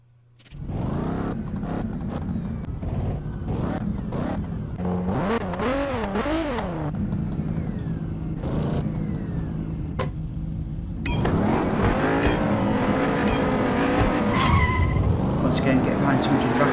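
Race car engines in Need For Speed No Limits rev and roar continuously, with rising and falling pitch sweeps as cars accelerate, loud and close throughout, under a speaking voice.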